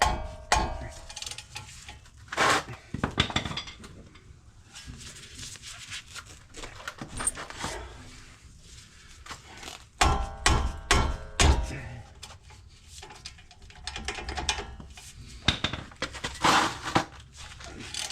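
A ratchet wrench with a 13/16 socket working a brake bolt on a Dodge Durango, giving sharp metallic clicks and knocks in irregular bursts, close and fairly loud, with brief pauses between strokes.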